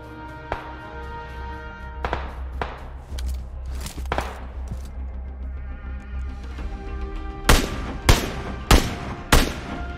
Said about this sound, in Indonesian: Ada tembakan.